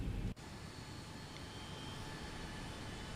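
A Boeing 737 in the X-Plane Zibo Mod simulator taxis with a steady, quiet jet engine hum and faint whine, starting after a brief louder rumble.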